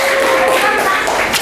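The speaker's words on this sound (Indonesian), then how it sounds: "tepuk tangan untuk kelompok 2" A class applauds a student group in a classroom, a dense burst of close clapping filling the short moment without pause.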